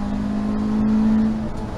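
A race car on the Rockingham circuit accelerates out of a corner, its engine holding a steady droning note that rises slightly and then eases, heard from on board for a couple of seconds.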